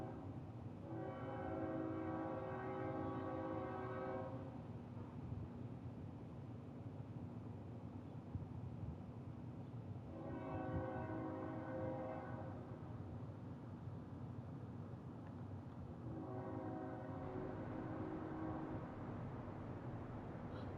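A train rolls past near a house and sounds its horn in three long, loud blasts spaced several seconds apart over a steady rumble of wheels.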